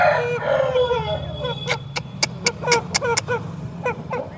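A country hen of the dega breed, a full-grown native chicken, gives a series of sharp, close clucking calls and squawks in quick irregular bursts, after a brief stretch of louder, drawn-out calling at the start.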